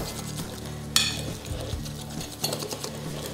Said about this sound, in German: Wichtig ist einmal glatt rühren